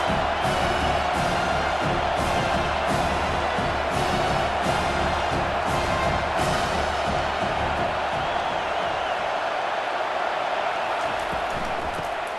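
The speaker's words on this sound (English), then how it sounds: "This crowd trying to make life miserable for this offense." A football stadium crowd at Tennessee versus Arkansas roars loud and continuous, a dense wash of cheering and shouting with rhythmic surges, and commentary faintly beneath.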